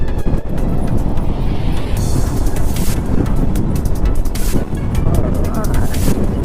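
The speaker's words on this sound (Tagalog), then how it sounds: "pero din, ang lakas ng hangin" Loud, constant wind in the uplands of Naga City, Philippines, buffets the microphone with heavy rumbling gusts, drowning out everything else for several seconds.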